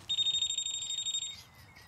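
A Lambretta X300 scooter gives off a steady, high electronic beep in fast repeated pulses, fairly faint and alone, ending after a second or so.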